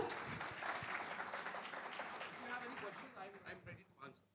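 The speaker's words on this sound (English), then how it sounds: "Can we clap harder?" Audience clapping at a business honours event in Mumbai, a dense round of applause that swells and then thins out, with a voice rising over the dwindling claps toward the end.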